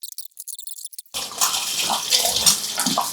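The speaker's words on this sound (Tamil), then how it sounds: "மூணாவது முறை அலசுறோம் இதை அலசிட்டு அதையும் கீழே தான் ஊற்றுவோம்" Tap water runs steadily into a kitchen sink as food is rinsed a third time during cooking, a close, full rush that starts abruptly after a second of faint clicking and holds without talk.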